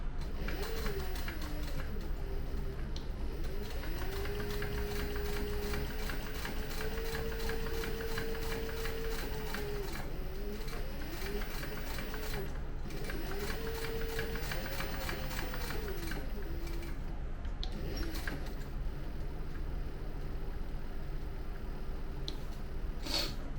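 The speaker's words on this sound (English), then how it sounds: "all the sewing on this bag is now complete" A sewing machine stitches the box seams of a leather zippered tote bag, a steady close mechanical whir with a droning motor tone that rises and falls in long runs, broken by brief pauses.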